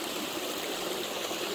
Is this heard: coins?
no